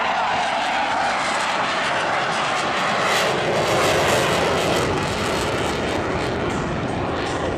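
A navy jet touches down at a beachfront air show, its engines roaring loudly and steadily as the throttles push forward, a broad, sustained blast from close by with no talking.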